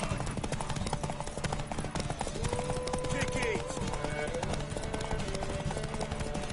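Steady horse hooves clip-clop in the Witcher 3 video game during a race, a rhythmic trotting beat under game character voices talking.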